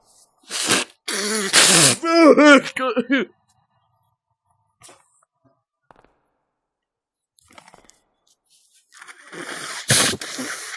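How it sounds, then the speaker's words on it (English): A sick person blows their nose hard and close up, with a couple of loud wet honking bursts at the start, then quiet sniffles and a final sharp blow near the end. "I need to blow my nose. It's gonna be a little gross."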